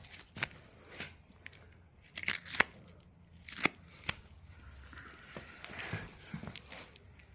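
A knife cuts and peels the hide off a deer carcass being quartered, giving scattered short rasping slices and crisp snips at close range, spread irregularly across the stretch with quiet pauses between strokes.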